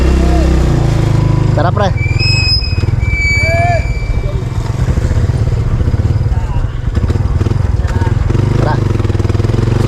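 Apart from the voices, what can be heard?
motorcycle engine running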